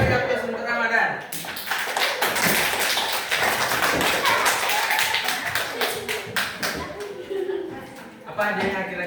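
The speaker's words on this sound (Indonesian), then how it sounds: "beri aplaus untuk Ramadan" A classroom of students claps for a quiz winner: brisk, dense applause lasting several seconds, with a teacher's voice briefly heard before and after.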